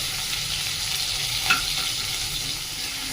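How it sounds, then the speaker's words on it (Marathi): Cumin, asafoetida, green chili, curry leaves and ginger sauté in hot oil, giving a constant dense close sizzle with a brief stir scrape in the middle. "छान परतून घ्यायचंय। आल्याचा पण छान फ्लेवर उतरला पाहिजे।"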